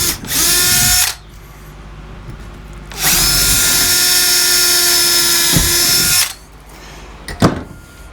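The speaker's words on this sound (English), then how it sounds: "So I'm going to drill my holes" A power drill bores holes into a workbench beam in a small shop, two loud, close whining bursts with a short pause between them, followed by a brief clunk of handling.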